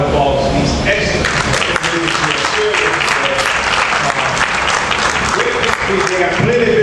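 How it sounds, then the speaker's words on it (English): A forum audience applauds a panel on Black male unemployment, with sustained loud clapping from a full room and voices talking over the applause throughout. "I want you to give a round of applause to these excellent"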